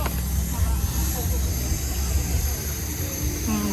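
Steady loud rotor and engine drone from a helicopter at a navy base during a fleet anniversary celebration, continuous and close, with people talking over it.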